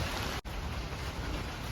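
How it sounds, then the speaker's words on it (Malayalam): Heavy rain pours steadily at the deserted entrance of Anchuruli, a dense, even hiss of drops on surfaces with one brief dropout. "നല്ല മഴയാണ് കേട്ടോ."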